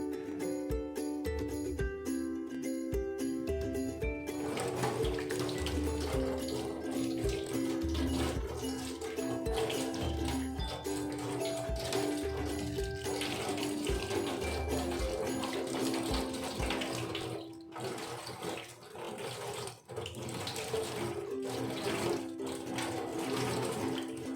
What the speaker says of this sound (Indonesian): sudah memakai sabun dan cuci tangan